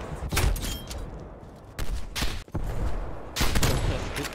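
Bursts of rapid gunfire from Call of Duty: Black Ops Cold War, three loud volleys separated by brief pauses, with sharp crackling shots and no talking.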